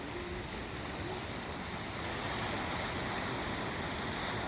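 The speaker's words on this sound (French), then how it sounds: "il y a des vagues et des cailloux" Sea waves wash over a pebbly shore in a steady, broad rushing wash with wind noise, fairly faint and continuous, with no talk.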